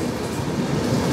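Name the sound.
Kanchan Kanya Express train running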